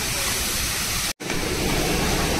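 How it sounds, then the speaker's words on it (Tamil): Steady rushing water flows loudly and continuously at the entrance to Vandalur Zoo, broken by a very brief dropout near the middle. "பாருங்க, ஃபுல்லாக தண்ணி ஓட்டுது."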